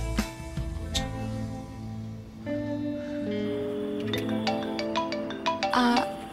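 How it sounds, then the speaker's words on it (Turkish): A phone ringtone plays a repeating electronic melody of bright tonal notes, moderately loud and continuous, with no voices over it. "İzninizle ben bu telefonu açmam lazım."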